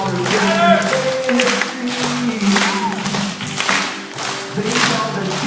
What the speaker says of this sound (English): I want to hear everybody clapping.